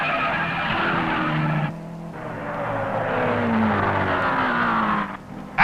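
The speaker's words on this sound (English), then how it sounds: "but his brother Al Unser spins out" A 1967 race car spinning out at speed, tires skidding and squealing in a long screech over a roaring engine, loud and close without talk.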